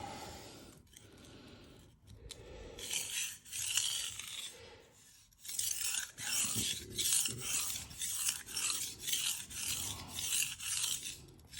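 A blade scrapes in rhythmic strokes across a King 300 splash-and-go water stone, a gritty rasping back and forth that starts slowly with clinks and builds into a steady, close series of strokes.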